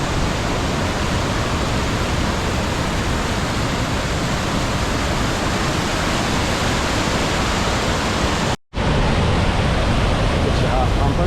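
Loud, broadband roar of the Berkeley River rushing, in the remote Kimberley region, steady and close, broken by one very brief dropout near the end before the roar resumes.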